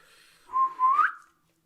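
A single short human whistle, a rising two-part note, clear and close against near silence.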